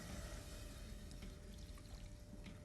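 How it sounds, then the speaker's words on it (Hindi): Water pours steadily into a pan of simmering kofta gravy, a soft continuous splash and trickle heard up close in a quiet kitchen. "इसमें थोड़ा सा पानी डाल देते जी"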